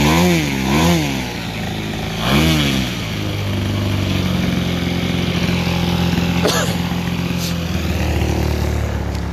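A small EME120 engine with JMB Brecka canisters and headers runs loudly and continuously, with a couple of wavering revs early on before settling into a steady buzzing drone.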